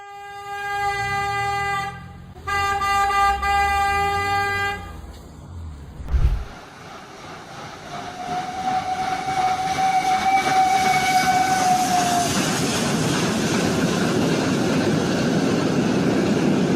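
A train sounds its horn in two long, loud blasts and then rumbles past nearby, the rolling roar building and holding steady to the end.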